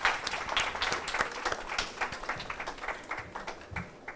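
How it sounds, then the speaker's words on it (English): At a national conference, an audience applauds as a speaker is welcomed to the stage: scattered, distinct hand claps building a lively but moderately loud round of applause that thins slightly toward the end. "Please join me with a huge round of applause in welcoming Mr. Nantaram Ramalingam to take the stage."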